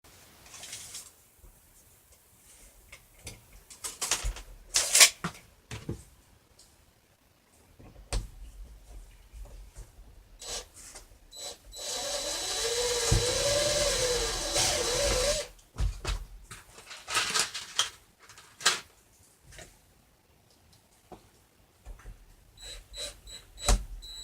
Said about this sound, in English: now I'm just screwing it to the furring strips.